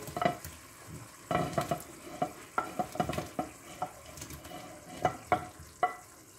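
Ground meat for kefta soup dropped into a hot pan over lowered heat, sizzling steadily while a spoon scrapes and knocks in a run of sharp, close stirring strokes.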